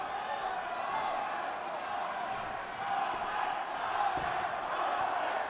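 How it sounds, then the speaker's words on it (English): Crowd at a live fight event roaring steadily, a dense, far-off wall of cheering and shouting that swells slightly in places, with commentary voices partly buried in it. "And this crowd is going nuts, man."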